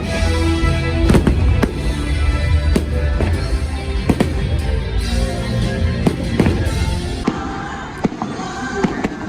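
Fireworks burst repeatedly at Walt Disney World during Mickey's Very Merry Christmas Party, with sharp cracks and booming thuds popping over a loud, constant crowd-like rumble.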